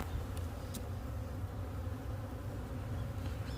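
Hornets buzz steadily in a hornet trap, a dense continuous drone with faint outdoor background.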